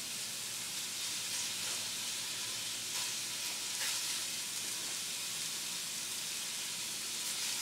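Pork tenderloin pieces brown in a pan with a steady, quiet sizzle and hiss of frying, close up and continuous with no talking.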